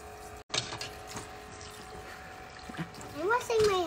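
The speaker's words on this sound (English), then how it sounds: "Turn the sink on, guys." Water runs from a sink tap in a home, a steady trickling pour that continues throughout, with voices talking over it and a brief gap near the start.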